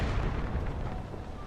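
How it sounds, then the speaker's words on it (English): Cannon fire booms in Zelda: Tears of the Kingdom as cannons attack the player: a dense, heavy explosive rumble lasting the whole moment, loud and low-pitched, with no talking over it. "Those cannons will attack me."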